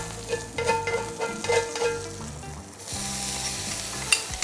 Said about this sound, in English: Into our pan, we're going to add in our shallots, into the juice and the fat that is rendered